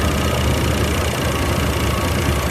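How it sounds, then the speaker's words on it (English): A hot truck engine runs rough with a misfire, a loud, close, steady rumble under a dense rapid ticking from noisy lifters, giving a diesel-like clatter. "it sounds like a diesel. Listen. Hear that? You hear his lifters opening and closing."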